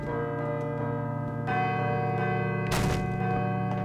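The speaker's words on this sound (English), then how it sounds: "I should let the bell finish ringing first." A deep, sustained bell tone rings and hums in the video game Call of Cthulhu, joined by a second strike partway through and a brief noisy burst near the end.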